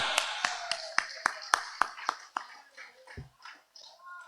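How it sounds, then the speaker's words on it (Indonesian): Rhythmic hand claps at an inauguration ceremony for a regional karate federation board in a pendopo hall, about ten evenly spaced claps in unison, then a softer scatter with murmuring voices. "Tepuk tangan."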